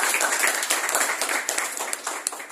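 Audience applause at a sanitary napkin product demo training session, a short burst of dense, scattered clapping from a room of people, fairly loud and fading slightly toward the end.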